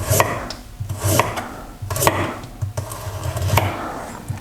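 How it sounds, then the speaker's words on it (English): A knife slices a carrot on a cutting board: crisp, close chops land one after another in a steady rhythm, each with a sharp woody knock, and no one speaks. "So this is going to be slightly different with the carrot, so I'm going to cut it in half"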